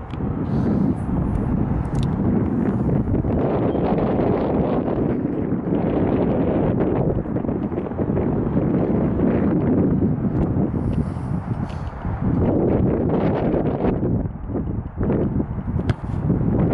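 Strong wind blows outdoors across a football field where field goals are being kicked. It makes loud, continuous buffeting gusts against the microphone that rise and fall throughout and dominate everything else.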